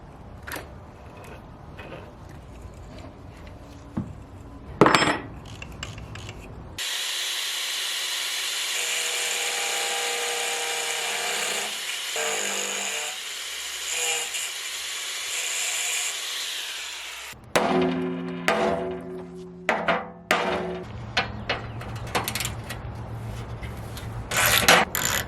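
A power grinder whines loudly and steadily for about ten seconds on metal of a used trailer for a homemade houseboat, bracketed by scraping and clanking handling noises before and after.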